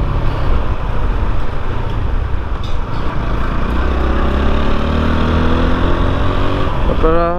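A modified TVS Apache RTR 160 4V motorcycle rides along with a loud, continuous engine drone and wind rush, the pitch rising as it accelerates toward the end, with a voice talking over it.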